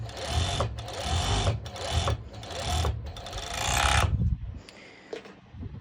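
A serger runs along the edge of lycra fabric in several quick mechanical bursts, each separated by a short pause, close and fairly loud, before falling to quiet handling noise at the end.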